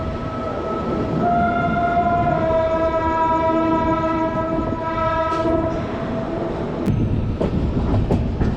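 A Thirukkural Express passenger train runs steadily with rumbling and clacking wheels, while a long horn-like tone sounds for several seconds before fading.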